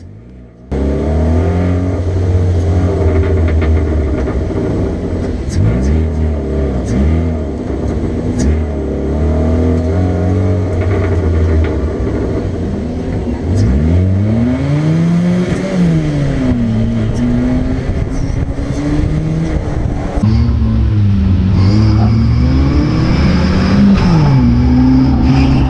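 Race car engines roar up close during a yellow-flag restart on an oval, revving hard through repeated rising and falling gear sweeps. The engines stay loud and continuous, with other cars mixing into the din.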